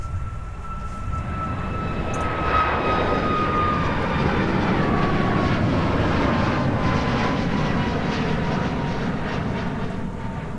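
Embraer E175 LR jet airliner departing Minneapolis–St Paul airport in winter: a loud, steady engine roar with a high whine that slowly falls in pitch as it passes and climbs away, no voices.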